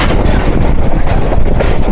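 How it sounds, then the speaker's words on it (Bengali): Lalmoni Express wheels clatter steadily on the rail track, a loud, continuous rumble heard close by from the open carriage door, with no voices. "এরকম ট্র্যাক সাউন্ড শোনার মজাটাই আলাদা।"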